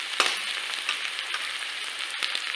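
Finely chopped onions fry in hot oil in a pan with whole dried red chilies, a steady close sizzle and crackle with a few brief stirring scrapes.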